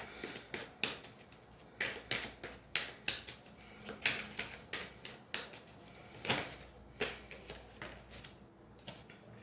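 Tarot cards being shuffled and pulled make soft, quick, rhythmic clicking and snapping strokes, close and quiet, with no talking.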